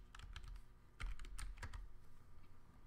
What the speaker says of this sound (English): we're just going to be typing in Google to the browser bar to pull up a sign-in page